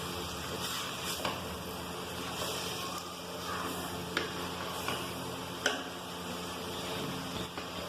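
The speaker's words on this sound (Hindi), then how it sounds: "दो मिनट तकरीबन इसको हम फ्राई करेंगे मटर के साथ।" Sausages frying together with green peas in a pan, a steady close sizzle running throughout with a few sharp ticks and stirring clicks, no talking.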